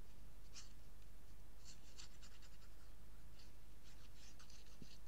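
Glue spread over paper with a brush or applicator for a handmade paper clip craft, giving quiet, intermittent scratchy rubbing strokes close to the microphone against a low background hum.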